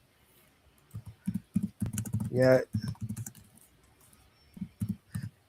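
Bursts of close keystrokes on a computer keyboard come in quick clusters with short pauses, and a brief spoken word cuts in midway over the tapping.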